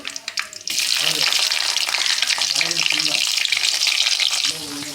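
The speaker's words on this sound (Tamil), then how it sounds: "சரி வெந்தயம் போட்டுக்கலாம் கொஞ்சமாக சீரகம் கருவேப்பிலை பூண்டு போட்டுக்கலாம்" Fenugreek, cumin, curry leaves and garlic dropped into hot oil, bursting into a loud, close, steady crackling sizzle that continues for several seconds after a brief lead-in of clinks, with no talk.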